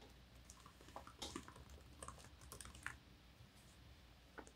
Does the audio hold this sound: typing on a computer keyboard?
yes